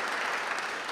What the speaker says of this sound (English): if everybody can give the panel a nice hand of applause